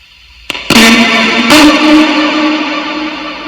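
A spirit box sweeps through radio stations, giving loud crackling static that bursts in abruptly and carries fragmented, distorted tones and echoes, with no clear speech.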